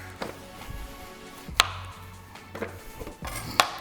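Tomatoes, jalapenos, green onion and cilantro are coarse chopped with a knife on a board, a few sharp, separate chops spaced a second or two apart over a quiet kitchen background.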